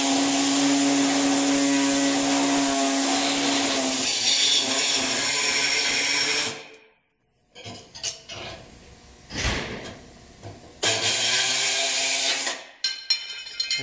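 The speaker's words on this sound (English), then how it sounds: "So take the air saw." Pneumatic air saw powered by an air compressor trimming an opening during a Safari snorkel install on a US-spec 200 Series Land Cruiser: a loud, steady buzzing whine for several seconds, then a pause and shorter bursts of cutting.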